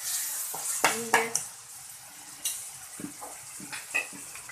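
Masala and tomatoes frying in a pan for chole, a soft steady sizzle with several sharper stirring scrapes and clinks of a spoon against the pan, heard up close with no talking.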